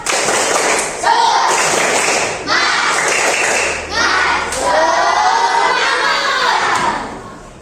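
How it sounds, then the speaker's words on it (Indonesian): A classroom of Indonesian children claps and chants a 'tepuk semangat' cheer together in a steady rhythm, loud and close, with short bursts of synchronized clapping between shouted phrases. "Tepuk semangat dulu biar lebih semangat."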